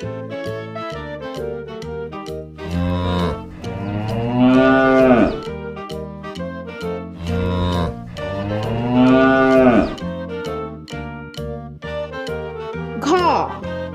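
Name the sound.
cow and calf mooing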